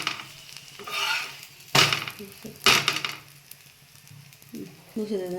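A potato paratha cooks in ghee on a pan over a low flame, a faint sizzle broken by two sharp scraping bursts, with a brief voice near the end.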